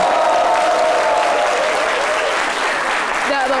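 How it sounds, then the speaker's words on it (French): A studio audience bursts into loud, sustained applause on a French midday television show, a dense wash of clapping throughout with a voice speaking over it. "on les applaudit"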